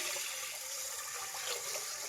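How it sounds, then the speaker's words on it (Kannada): Water is poured into a pot of washed moong and toor dal, a continuous close splashing gush with no pauses. "ತೊಳೆದಿರೋಂಥ ಹೆಸರು ಕಾಳು ತೊಗರಿಬೇಳೆ ಇದಕ್ಕೆ ಹಾಕ್ತಾ ಇದ್ದೀನಿ. ನೀರು ಹಾಕ್ತಾ ಇದ್ದೀನಿ."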